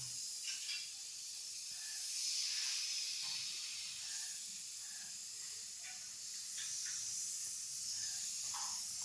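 A pencil spray gun fed by a compressor gives a steady faint airy hiss that carries throughout, with small shifts in intensity as it sprays.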